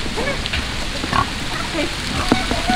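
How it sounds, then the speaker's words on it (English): Rain falls steadily around a hog-loading area, a continuous hiss with scattered drop taps and a few animal grunts mixed in. "it's starting to rain on us pretty good"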